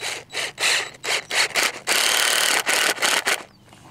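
Exterior screws being driven into a wooden post, heard as several short close bursts of driver whirring and grinding into wood, one longer sustained run in the middle, and then a quiet tail.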